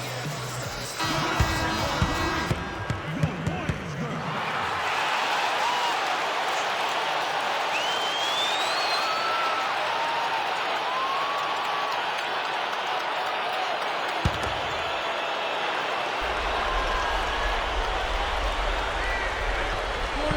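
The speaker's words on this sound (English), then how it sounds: "the crowd still shows up and gives them tremendous support" Crowd applause and cheering fill an NBA basketball video game arena with a steady broad roar for most of the stretch. Game sounds come first, and a commentator's voice runs over the noise.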